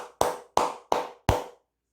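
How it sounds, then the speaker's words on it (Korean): Four sharp, close hand claps from a single person at an even, unhurried pace, each a crisp smack with a short decay, followed by silence. "박수 한번 치고 가도록 하겠습니다"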